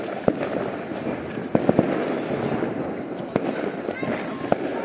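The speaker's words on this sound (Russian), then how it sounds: "Опять салют." Fireworks burst in sharp, scattered cracks and booms across Sokolniki park in Moscow on a cold Christmas-season evening, with several loud reports spaced among steady outdoor crowd noise and people talking nearby.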